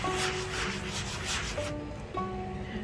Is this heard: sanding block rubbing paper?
yes